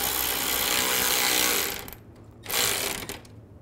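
Screws being snugged down while fitting a turbocharger on a 2007–2013 Mini Cooper S: a sustained whirring drive for nearly two seconds, then a short second burst after a pause, close up with no talking.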